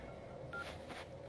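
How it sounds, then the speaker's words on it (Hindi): A telephone gives a brief electronic signal: two short beeping tones in quick succession over a quiet background, faint and close. "सर आपके लिए कोई कॉल आ रहा है सर"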